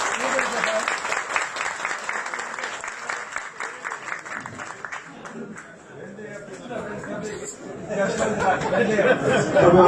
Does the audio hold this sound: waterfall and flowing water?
no